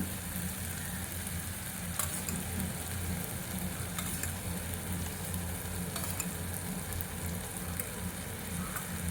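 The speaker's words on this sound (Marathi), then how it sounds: "आता आपण यात फेटलेलं दही घालू" A pan for a restaurant-style bottle gourd kofta curry gives a steady, dense sizzle with a low background hum, marked by a few sharp clicks at regular intervals. No voices are heard.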